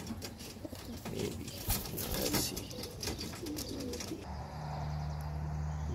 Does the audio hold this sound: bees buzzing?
no